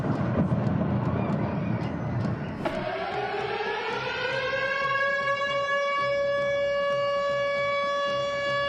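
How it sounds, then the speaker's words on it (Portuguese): Air raid siren in war-torn Ukraine winding up to a steady, sustained wail after a rough, noisy start, heard from a distance and fairly faint. "o uivo das sirenes e o som das explosões"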